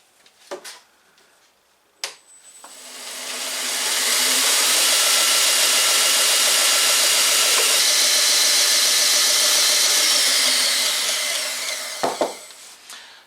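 A three-phase belt grinder with aluminium oxide and ceramic belts grinds a zipper, spinning up to a loud, steady abrasive whine that holds for about eight seconds before winding down, with brief knocks at the start and end.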